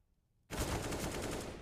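Gunfire in the video game CS:GO during a competitive match bursts in after a brief silence, a loud continuous rattle of shots that lasts to the end.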